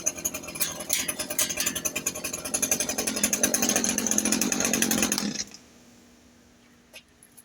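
A hedge trimmer runs loudly and steadily for about five seconds while its blades are being sharpened, giving a dense mechanical buzz that cuts off abruptly, followed by a quieter room and a faint tap.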